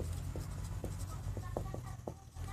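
Pen or pencil writing on paper while solving a Class 12 NCERT vector algebra problem, soft scratchy strokes in short bursts over a steady low background hum, close and quiet.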